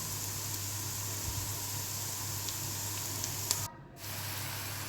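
Okra frying in hot oil, giving a steady, even sizzle throughout with a brief dip near the end and no talking.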